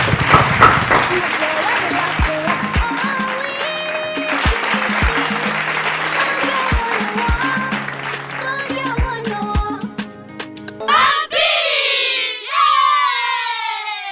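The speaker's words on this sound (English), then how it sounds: "Please clap for them." Audience applause for contestants at a children's quiz contest, sustained clapping with cheering and children's voices over background music, ending in shouts.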